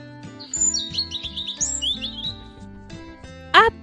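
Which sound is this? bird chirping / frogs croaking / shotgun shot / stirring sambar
bird chirping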